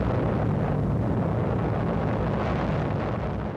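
Atomic bomb explosion over Hiroshima: a loud, continuous, roaring rumble fills the whole stretch, heavy and unbroken, easing only slightly at the very end.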